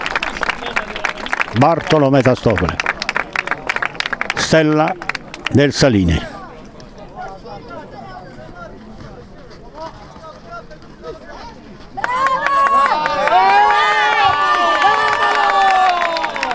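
A local crowd at an amateur football match between Saline Joniche and Calcistica Spinella applauds and cheers a substitution, bursts of clapping and shouts under an Italian commentator's voice, swelling again loudly near the end.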